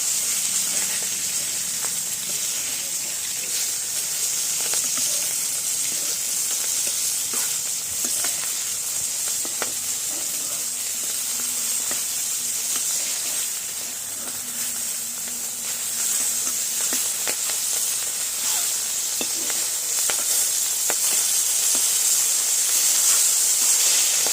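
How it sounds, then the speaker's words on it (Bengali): Tangra fish, a small catfish, frying in hot oil for a pumpkin-stem greens curry, a steady broad sizzle and hiss that holds throughout with faint crackles and spatters, close and continuous with no voices. "প্রথমে আমি ট্যাংরা মাছটা ভেজে নিচ্ছি"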